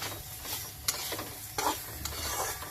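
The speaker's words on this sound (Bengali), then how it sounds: "এবার ভাজা হয়ে গেল আদাটা" Chopped ginger frying in a pan alongside diced tomato, a soft crackling sizzle with a few sharp scrapes and clinks of a stirring utensil against the pan, fairly quiet and steady with no talking.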